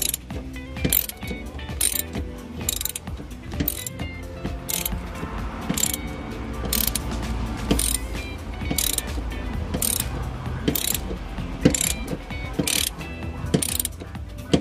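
A ratchet loosens stiff, never-opened rear seat bolts in a Suzuki Splash, making rapid, close clicking runs that repeat in short bursts with a few clunks in between.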